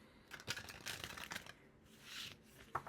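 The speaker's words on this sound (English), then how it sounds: "so while I'm shuffling" A deck of oracle cards is shuffled by hand during a tarot-style reading, soft riffling and flicking bursts repeating close by at low volume with no voice over them.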